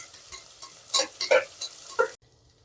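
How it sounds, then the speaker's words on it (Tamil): Sliced onions frying in a pan for vegetable pulao, heard as close stirring scrapes and short sizzling bursts that stop abruptly. "அடுத்ததாக வெங்காயம், நல்ல வெங்காயத்தை கொஞ்சம் பொன்னிறம் வந்தால் போதும்."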